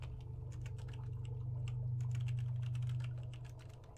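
Steady clatter of keys typed on a computer keyboard, a quick irregular run of taps over a low constant hum, fairly close and moderately loud with no talking.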